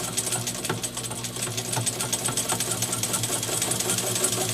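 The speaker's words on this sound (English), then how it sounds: "you start the motor with your foot to the point where it's on the verge of going" Commodore Super Deluxe class 15 straight-stitch sewing machine running steadily, a close, even rapid clatter of stitching at a constant pace with a low motor hum underneath, no talking.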